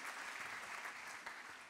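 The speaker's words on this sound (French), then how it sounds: "applaudissements pour Margot" At an award ceremony for the Claude Nougaro writing prize, an audience applauds Margot with a brief, dense, continuous burst of clapping heard at a moderate distance.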